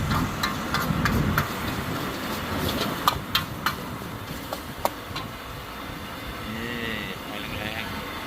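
A gas wok burner at a Khon Kaen roadside stall, turned up high while stir-frying basil pork, gives a steady, dense roar. Sharp metallic clanks of the wok and spatula sound close over it, strongest early on.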